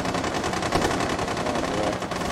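Rapid automatic gunfire in a siege battle video game, dense bursts of shots rattling continuously through the short stretch, loud and close with no talk over it.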